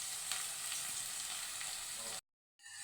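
Chopped onions and onion greens crackle and sizzle in hot oil for a Karnataka-style ulagaddi palya, a steady close hiss that cuts off abruptly, then resumes after a short silence.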